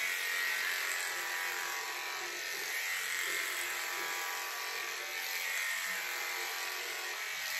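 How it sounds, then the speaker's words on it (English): Electric clippers buzz steadily while shearing the wool off a lamb's body in long, even strokes, a constant high motor whine heard close up with a few small shifts in pitch as the blades move through the fleece. "So when I'm starting, I'm just going to clipper long, even strokes."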